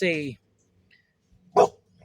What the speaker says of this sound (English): hey, what are you barking at?